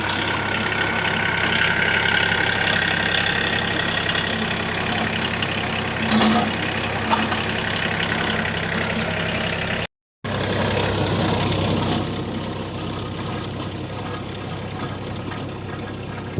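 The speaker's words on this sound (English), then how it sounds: "Dad's on the tractor now" A steady tractor engine drones at idle throughout, a low continuous rumble with a brief cutout partway through, no voices.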